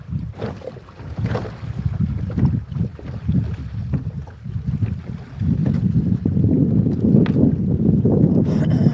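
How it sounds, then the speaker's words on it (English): Strong wind buffets the microphone outdoors, a loud continuous rumbling roar that gusts and swells, growing heavier and steadier toward the end. "Damn wind, bro."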